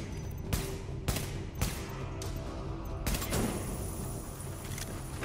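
Enemy gunfire in The Division, a series of sharp, fairly faint single shots spaced about half a second apart over a steady background hum, with no talking.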